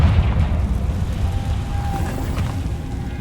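A fiery blast spell cast in Hogwarts Legacy, heard as a loud, sustained low rumbling boom with crackling burst texture, standing alone without speech.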